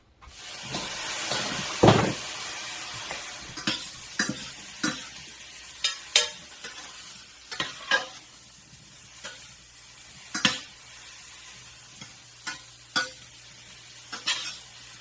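A pot boils with a steady hiss, punctuated by irregular pops and bubbling bursts throughout.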